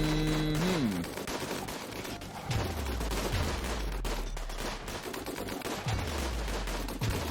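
A centipede gunner firing in the video game RimWorld, sustained loud bursts of rapid gunfire with repeated booming low impacts and a falling tone near the start, no talking.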